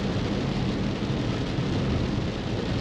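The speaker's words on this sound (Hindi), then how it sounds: "इधर ये है कुछ नज़ारे बारिश के" Steady, dense hiss of heavy rain pouring down at Patnitop hill station in Jammu, constant and loud throughout with no pauses or voices.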